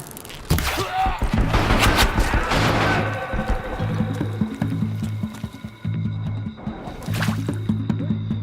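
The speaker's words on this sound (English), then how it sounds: "Who's shooting?" Rapid bursts of gunfire crackle in a Horizon Zero Dawn gameplay scene during the first few seconds, then give way to a low, droning game score with a few later bursts, loud and busy.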